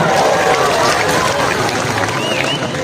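Church revival congregation in Mamasa, West Sulawesi applauding the mothers, a loud, continuous wash of clapping and crowd noise with voices mixed in.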